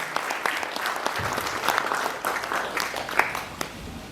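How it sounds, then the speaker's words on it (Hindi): An audience at a philatelic stamp exhibition ceremony applauds steadily, a dense, even patter of many hands clapping at moderate volume throughout. "तालियों के साथ आप इनका भी स्वागत करें।"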